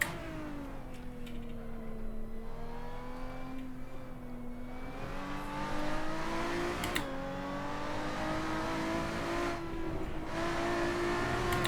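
Race car engine in Assetto Corsa sim racing, a steady high whining drone with rising and falling pitch through gear changes and throttle lifts, continuous and fairly loud, without speech.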